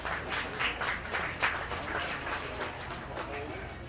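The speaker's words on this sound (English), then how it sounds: "Hey, let's give her a nice round of applause." Scattered audience clapping for a young exhibitor in a county fair swine show ring, a brief round of hand claps with crowd murmur and talk around it.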